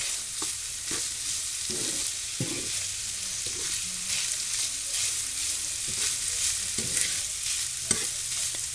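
Ground beef mixed with leftover rice fries and sizzles in a pan, with a steady hiss broken by repeated scraping stirs from a spoon, close up and with no talking.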